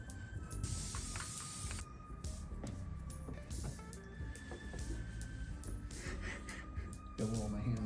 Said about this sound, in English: After spray gluing in the foam